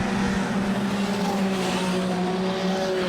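Junior sedan race cars roar down the main straight of Rockhampton Speedway, a loud sustained engine drone with steady harmonic tones as several cars run together, no talking.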